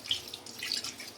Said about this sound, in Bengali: ইলিশ মাছ তো বেশি ধোয়াটা ঠিক না, হালকা করে ধুয়ে নিচ্ছি